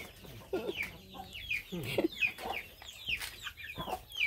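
Backyard chickens clucking near a farm hut, a series of close, repeated clucks and short squawks in an uneven rhythm, fairly clear with no talking.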